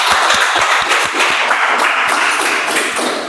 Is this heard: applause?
yes